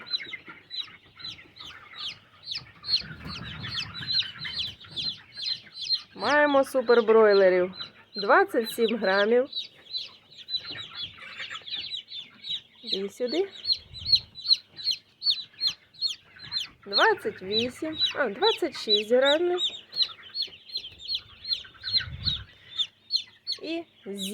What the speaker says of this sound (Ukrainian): Зважуємо курчат.